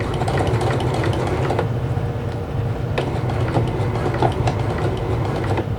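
A sewing machine runs a back stitch on a beach tote bag, its rapid needle clatter rattling steadily and close, with a few sharper knocks along the way.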